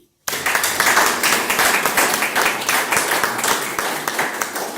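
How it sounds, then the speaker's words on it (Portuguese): A roomful of people claps for Pedro, the host, at a spiritual gathering: dense, steady applause starts abruptly and continues loud and close throughout. "Palmas para o Pedro."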